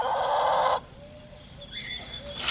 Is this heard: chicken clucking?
yes